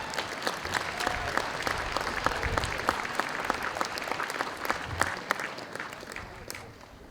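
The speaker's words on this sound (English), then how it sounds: "Yeah, let's clap." At a Ripon College commencement ceremony, the audience breaks into sustained applause for the graduating class, a dense, steady crowd clapping that stays loud throughout and eases off slightly at the end, with some voices mixed in.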